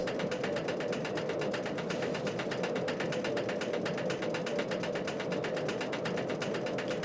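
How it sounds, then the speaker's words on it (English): A Bolliger & Mabillard dive roller coaster in the Planet Coaster game climbing its lift hill, giving a steady, fast ratcheting clatter of the chain that runs unbroken and even throughout, with no voices. "Still clunking up the lift hill."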